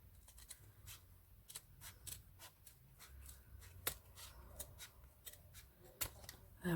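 Scissors cut along a 3-inch ribbon for a hair bow, giving quiet, irregular crisp snips and rustles spread over several seconds, close up and faint, with no talking.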